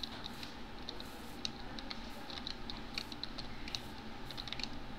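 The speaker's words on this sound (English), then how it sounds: "Sorry if my keyboard's a little bit loud" A computer keyboard is typed on during a Minecraft server session, with quick irregular bursts of clicky keystrokes, fairly close but quiet, over a low steady background hum.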